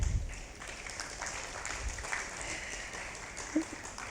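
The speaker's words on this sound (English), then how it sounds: "Let's give him a warm round of applause." Steady, fairly faint applause from an audience at a CEO forum luncheon rolls on without a break, with no voices rising above it.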